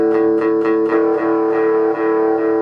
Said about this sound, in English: The distortion gets turned on.